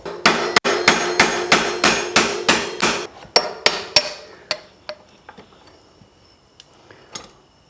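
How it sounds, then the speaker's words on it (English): Metal hammer tapping out press-fit bottom bracket bearing cups on a bicycle frame, starting with a quick, even run of sharp, close, ringing strikes that slow to a few sparse taps and fade. "take your hammer and just tap these out"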